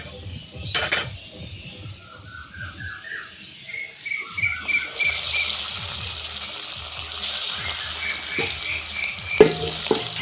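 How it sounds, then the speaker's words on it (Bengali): Soybean pakoras fry in hot oil, the sizzle swelling into a steady hiss partway through, with light clinks and birds chirping faintly in the background. "বন্ধুরা আমি এইভাবে বাকি পকোড়াগুলোও ভেজে নেব।"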